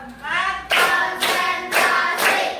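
A classroom of students claps together in a steady beat, with several loud group strikes evenly spaced and a faint voice trailing at the start.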